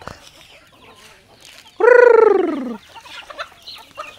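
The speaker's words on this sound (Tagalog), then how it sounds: "Ito yung manok." A single loud, drawn-out chicken call, harmonic and falling in pitch, stands out against quiet background murmurs and rustling.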